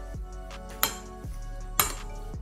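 A spoon knocks and clinks against a bowl while mixing hing, ajwain and roasted cumin powder into a batter, with a couple of sharper clanks among softer scraping stirs, close by.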